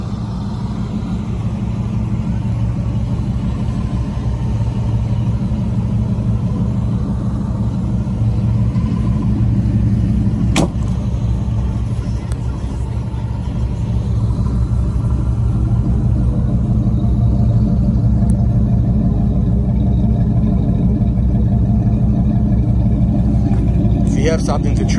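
A supercharged car engine runs at a smooth, steady idle, a constant low rumble close by with no revving, with talk over it.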